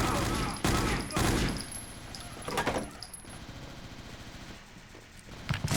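A machine gun in the video game Brutal Wolfenstein fires in several sharp bursts, close and loud, with quieter clattering and rattling between the volleys.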